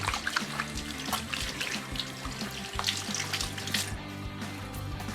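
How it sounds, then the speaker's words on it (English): Water runs steadily from a tap into a sink, a constant splashing stream with light irregular spatters, fairly quiet and close. "Now we can open the water."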